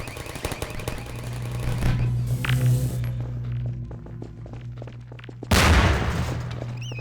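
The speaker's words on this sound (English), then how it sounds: "Take that turret down, Gordon." Turret gunfire in Half-Life 2: Episode Two, with rapid bursts of automatic fire over a steady low mechanical hum, then a loud close blast near the end.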